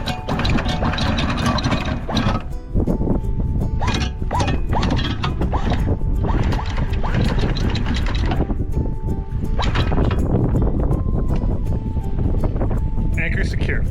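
Sailboat anchor being raised and secured off St. Martin, a steady clanking, ratcheting mechanical grind from a windlass or chain running throughout at close range, with wind noise and people talking over it.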